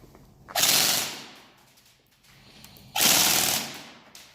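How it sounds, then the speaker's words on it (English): A KWA MOD1 airsoft gun fires full auto in two rapid bursts, each a loud dense rattle lasting about half a second, separated by a quiet gap with faint background noise. "we gotta do the full auto test"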